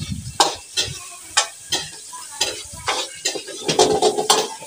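Chicken cooking with oil and lemongrass in a pot, An Giang style, with close metallic stirring clanks repeating over a steady sizzle.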